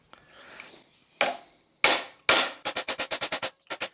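Hammer blows on wood ring out close by: a few separate heavy knocks, then a quick run of eight or so sharp, evenly spaced strikes and two more after a short pause, with no talk.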